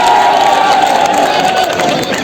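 Crowd at a statue-unveiling ceremony in Dholpur cheering and clapping to welcome MP Tomar, a dense, loud, continuous roar of many voices with applause mixed in.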